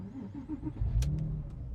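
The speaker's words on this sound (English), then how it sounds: "Beautiful, lovely, deep, throaty chirp of the M96 flat six engine." A Porsche 911 with an M96 flat-six engine cranks and fires up nearby, a brief starter whirr followed by a deep, throaty catch and settling idle, fairly quiet and alone.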